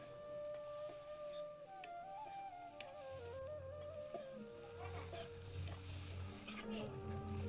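Wild leafy greens being stirred and mixed in a pan with salt, a spoon scraping and clinking against the metal amid a low sizzle, with faint background music.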